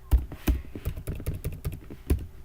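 Commands being typed on a computer keyboard, a quick irregular run of close, crisp key clicks with a few heavier thumps, no voices.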